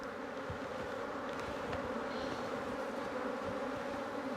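Honey bees in a hive give off a dense, steady buzzing drone that stays close and even from start to finish, with no voices over it.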